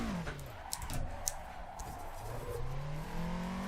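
Racing game car engine on the Akagi course, played with a wheel and hardmounted shifter, revving up and dropping through gear changes, its pitch sweeping down and climbing again over faint clicks of the controls.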